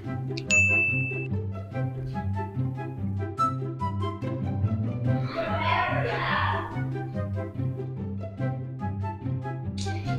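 A phone rings repeatedly during a call, a steady looping ringtone with tones that repeat in an even pattern, clear and fairly loud, while a voice briefly talks over part of it.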